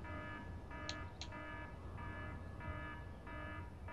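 The alert sound from a sound block in Space Engineers on Xbox repeats as a looping electronic beeping tone, regular pulses about every half second at low level, with two brief higher chirps early on.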